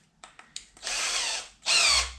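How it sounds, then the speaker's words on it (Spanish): A power drill with a 2 mm pilot bit bores into a furniture board, with brief clicks and starts followed by two sustained close, loud whining bursts of drilling. "ahí haremos el primer taladro con nuestra broca guía de 2 milímetros"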